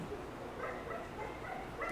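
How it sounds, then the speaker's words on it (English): A loud dog barks outdoors, heard from inside as several short, muffled barks spaced irregularly over a steady background hiss. "It's a very loud dog outside."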